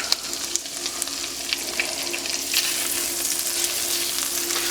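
A tablespoon of tomato paste and two cloves of minced garlic sizzle in a stick of melted butter over medium heat, giving a steady, close crackling fry with small pops and no voices.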